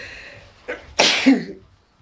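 A single loud sneeze bursts out after a short sharp intake of breath, close and clear, then quickly fades to silence.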